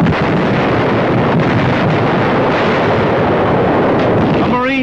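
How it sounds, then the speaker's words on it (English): Wartime combat at the Battle of Tarawa: a dense, continuous roar of explosions and gunfire, loud and saturated throughout with no pauses, with a wavering tone near the end. "The Marines in the desperate battle for Tarawa, amid a bedlam of explosion and shooting."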